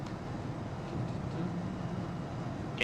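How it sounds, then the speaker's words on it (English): Steady jet engine drone of a Challenger 300 business jet in the X-Plane 11 flight simulator, a constant low rumbling hum with no breaks. "Can you hear my plane? Is it that loud?"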